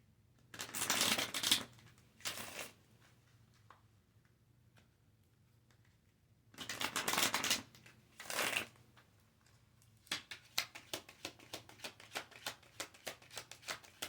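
Tarot cards are riffled and shuffled close up, two bursts of quick papery flutter, then a run of rapid light taps as cards are squared and dealt, quiet and without talk.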